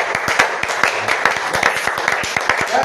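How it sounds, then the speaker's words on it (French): A church congregation claps in rhythm after a prayer, with sharp, fairly regular hand claps repeating steadily and close throughout, some voices faintly mixed in. "Applaudissons pour Jésus."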